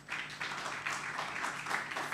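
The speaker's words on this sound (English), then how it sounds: "let's give a big round of applause for everybody" Steady applause from an audience at a wealth summit in Abuja, a continuous moderate wash of clapping throughout with no voices.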